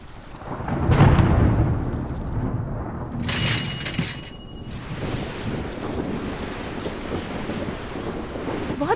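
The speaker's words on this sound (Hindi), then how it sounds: "बहुत तेज बारिश होने वाली है" Thunder rumbles through a heavy rainstorm, with deep rolling booms and a steady wash of rain and wind that stays loud for the whole stretch.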